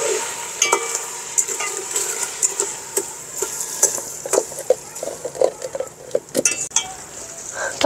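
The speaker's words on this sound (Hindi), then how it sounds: "घी जो है वो मेरा हो गया जी गरम। अब मैं डालती हूँ इसमें चीनी" Sugar stirred into hot melted ghee in a pan, a soft continuous sizzle broken by repeated scraping and clinking of a spoon against the metal, close and fairly loud, with no talk.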